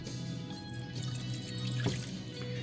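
One cup of water is poured into a cooking pot, a steady close splashing trickle with a low hum beneath it and a brief louder splash near the end, no talking.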